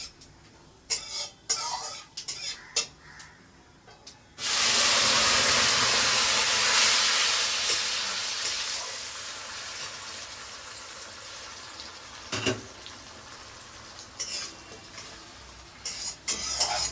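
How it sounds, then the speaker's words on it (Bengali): Tomato paste made from raw tomatoes hitting hot oil with spices, a loud steady sizzling hiss that bursts in suddenly and slowly eases off, after scattered kitchen clatter. "টমেটো বাটাটা দিলাম।"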